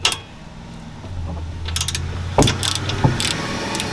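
A ratchet wrench working loose the lower rear brake caliper bolt on a 2011–2017 Honda Odyssey, giving a few short metallic clicks and a sharp crack as the bolt breaks free, close and fairly quiet over a low background hum.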